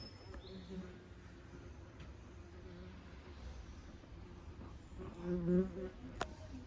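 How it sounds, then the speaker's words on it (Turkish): Bees buzz faintly around balcony succulents and geraniums outdoors after rain, with a louder buzzing pass near the end over soft background noise. "Arı var yine."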